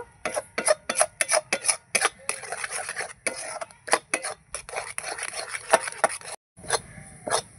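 Sweet gujiya filling is stirred continuously in a pan. Rapid, rhythmic scraping and tapping of a utensil against the pan repeats close up with short pauses between strokes.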